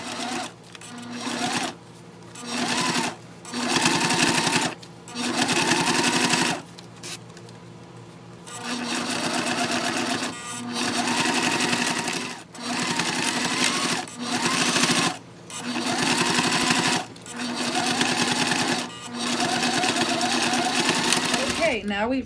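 Sewing machine topstitching a waist bag seam at a quarter or eighth of an inch, running in a series of short, repeated bursts separated by brief pauses.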